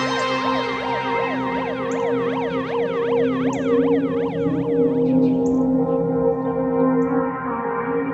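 An ambulance siren wails steadily and loudly, its rising and falling two-tone sweep repeating close by with no talk over it.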